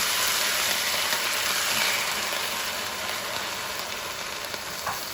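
Chinese cabbage being stir-fried in a wok with a vinegar sauce, giving a steady, close, broadband sizzle and hiss that holds at an even level throughout, with no talking.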